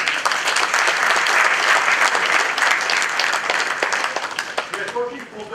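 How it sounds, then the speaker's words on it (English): Audience applause at a convocation ceremony, a dense, steady wash of many hands clapping that carries through most of the stretch and tapers slightly near the end. "So let's applaud these young boys and girls for their achievement."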